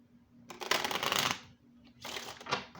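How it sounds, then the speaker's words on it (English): A deck of Fortune Cookies oracle cards being shuffled close up: two quick riffling bursts of papery flutter separated by a brief pause, with no talk. "We're going to pull from the Fortune Cookies by Shirina Star"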